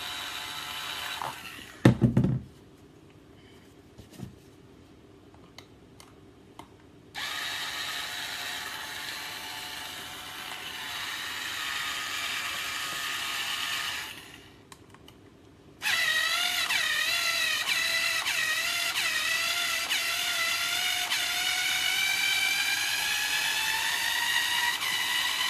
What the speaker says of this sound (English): you're going to unscrew the screws and take them out